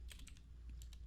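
Quiet keystrokes on a computer keyboard, a short quick run of taps followed by a brief pause and a couple more presses, faint over a steady low background hum.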